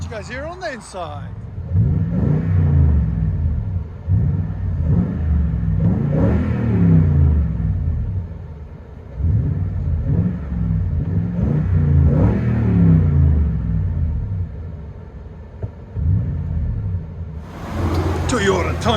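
From inside the cab of a 2018 Toyota Tundra with a 5.7L V8 and a CARVEN TR-Series true-dual exhaust, a deep rumble swells and eases through several revs and accelerations, heavy in the low end and muffled by the cabin.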